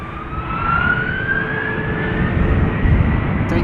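A KLM Airbus A330-300 departs Amsterdam Schiphol Airport, its engines roaring loudly and steadily as a rising whine climbs across the sound.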